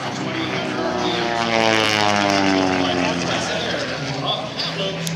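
Home-built airplane with a 300-horsepower Lycoming 540 engine flying at an airshow, giving a steady loud propeller drone with a shifting tone throughout, with a voice talking over it.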